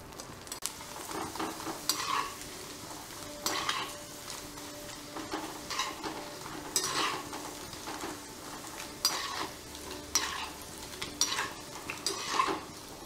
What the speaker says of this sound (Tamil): கொஞ்சம் வத்தல் வறுத்துப்பேன்